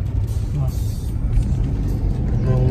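Trucks and cars rumble steadily along a busy road on a sunny day in Bicol, a continuous low traffic drone with no break.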